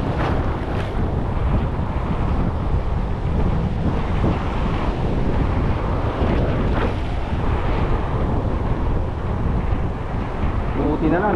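Steady wind roars across the microphone over the sea at a fishing spot, with the wash of waves underneath, a constant rushing noise with no pauses.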